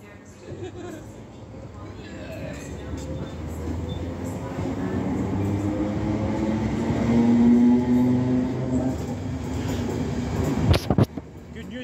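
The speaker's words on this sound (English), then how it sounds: "Good news, guys, that is our train coming." A train pulling into a station on the Cumbernauld to Dalmuir line, a rumble and squealing rail screech building over several seconds and easing off near the end, with people chattering nearby.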